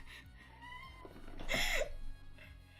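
BB, a pet cat, lets out one drawn-out, wavering meow midway, close by but fairly quiet, against a soft room background.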